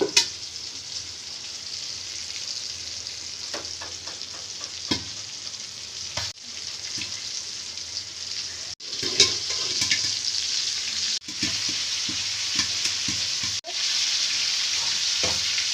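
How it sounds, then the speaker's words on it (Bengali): Popcorn kernels in a covered pan pop and crackle over a continuous oily sizzle, with repeated scraping and rattling as the pan is stirred, loud and close throughout. "পপকর্নটাকে আমি নেড়ে চেড়ে দিব। ফুটতে শুরু করেছে।"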